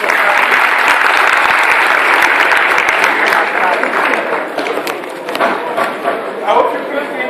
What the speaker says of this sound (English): So let's give you a big round of applause